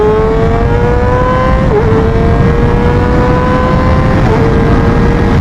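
A Yamaha R9 motorcycle pulls hard through the gears, the engine note holding a loud, steady drone with brief dips at each shift, close and continuous without any talking.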